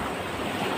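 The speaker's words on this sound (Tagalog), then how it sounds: "medyo hindi na ganun kalakas yung alon dito" Ocean waves at low tide at a fishing spot in Linapacan, Palawan, a steady broadband wash of surf and wind, moderately loud and continuous, with no voices.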